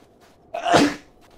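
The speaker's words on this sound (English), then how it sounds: "I'm gonna sneeze." A single human sneeze, a sharp close burst that swells and fades within about half a second, surrounded by near silence.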